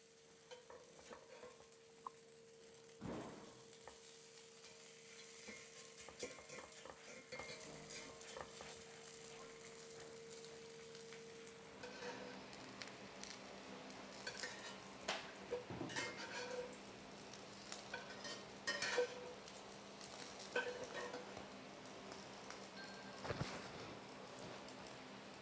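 Arepa of P.A.N. cornmeal cooking in a pan and flipped over: steady soft sizzling throughout, with scraping and knocking of a utensil against the pan and a louder clatter near the turn.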